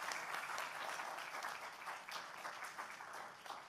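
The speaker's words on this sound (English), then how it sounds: "can we have a round of applause for all 4 nominees?" A conference audience applauds four nominees at a national science and technology conference, a steady wash of many hands clapping at moderate distance, sustained evenly throughout with no talk over it.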